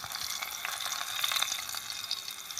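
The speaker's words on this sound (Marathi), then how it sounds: "तर लसूण आपल्याला चांगला तडतडून घ्यायचा आहे।" Crushed garlic crackles in hot oil for a tempering over a wood-fired clay stove, a soft continuous sizzle with a fine spitting texture. It stays fairly faint and steady throughout, with no voices.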